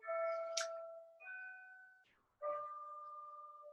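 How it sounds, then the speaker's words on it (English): A home doorbell chimes. Clear, ringing two-tone ding-dong notes sound one after another and fade between strikes, with no talking over them. "Sorry, that's my doorbell going."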